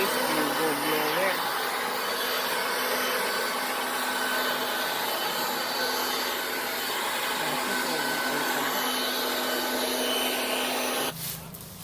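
A leaf blower clears fallen leaves from a yard with a continuous, loud whooshing roar that holds steady for about eleven seconds before cutting off abruptly near the end.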